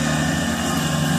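A lawn mower runs steadily in a yard, a loud continuous engine drone with a constant pitch and no pauses or talking.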